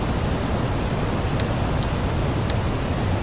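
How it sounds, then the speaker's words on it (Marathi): Steady, dense roar of the Bhambavli Vajrai waterfall in Satara, a very tall three-tiered cascade fed by the Urmodi river, with the continuous hiss of falling water holding level throughout and no voices. "भांबवली वजराई हा धबधबा भारतातील सर्वात उंच धबधबा आहे।"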